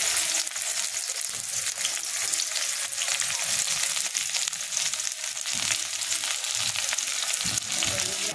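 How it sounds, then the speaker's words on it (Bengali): Bitter gourd frying in hot mustard oil in a kadai, a steady dense sizzle holding at an even level throughout, close and continuous with no talking. "তেলটা গরম হয়ে গেলে এরপর আমি এর মধ্যে উচ্ছেগুলোকে ভেজে নেব"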